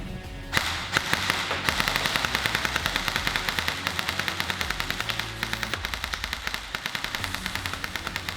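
Rapid semi-automatic shots from an airsoft blaster built for speedsoft and firing at 400 FPS: a quick, steady string of sharp cracks, close and loud, that keeps going through the whole stretch.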